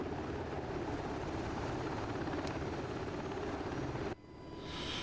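A Black Hawk helicopter flies in the DCS video game with a loud, steady rotor and engine drone that drops abruptly near the end, then swells back up, with no voices.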